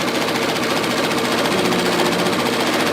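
A Bernette B68 air-threaded serger runs at speed sewing a seam, a loud, fast, even mechanical whir with rapid stitching pulses that continues unbroken, no talk over it.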